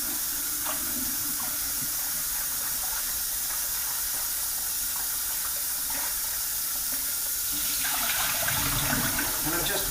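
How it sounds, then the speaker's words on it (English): Cold tap water runs steadily over blanched vegetables in a kitchen colander, a continuous close splashing hiss that swells louder near the end. "just a little bit of cold running water on the vegetables"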